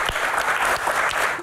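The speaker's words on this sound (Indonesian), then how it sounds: "Ya, tepuk tangan dong buat Densu." Short burst of audience applause at a talk-show style Q&A, dense clapping that holds steady and then drops off abruptly.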